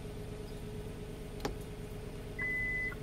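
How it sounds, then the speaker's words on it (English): Power trunk of a 2016 Kia Sedona minivan, a single faint click followed by one short steady beep, quiet against a low background hum with no talk. "and the trunk beeps and it starts opening"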